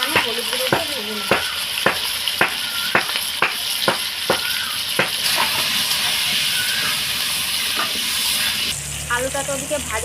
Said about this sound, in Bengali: তেল গরম হয়েছে, এবার আমি আলুগুলোকে ভেজে নেব।